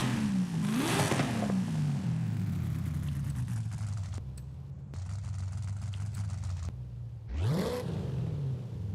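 An LS3 V8 swapped into a Ford F350 pickup in Forza Horizon 5 revs hard twice, rising and falling with a steady idle rumble between, loud and close with no talking.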